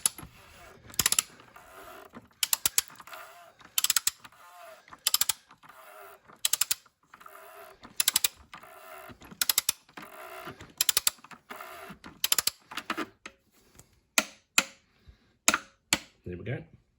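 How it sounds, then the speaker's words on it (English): A torque wrench ratchets in repeated short bursts during an oil service on a 2017 BMW X6 M40d F16, its clicks sharp and close, coming in a steady rhythm of pulls and then single louder clicks near the end. "I'm going to use the torque wrench set to 25 nanometers."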